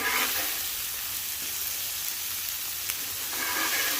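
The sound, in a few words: ground beef burgers sizzling on a flat top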